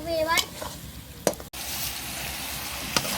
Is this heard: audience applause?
no